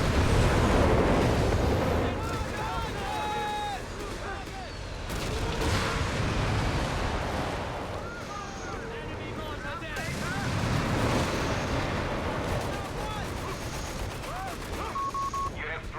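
Heavy explosive barrages and gunfire from Company of Heroes 3 battle on the Mignano Gap map, Nebelwerfer rocket artillery firing in repeated loud salvos, with a commentator speaking over the din.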